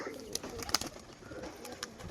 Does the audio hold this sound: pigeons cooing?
yes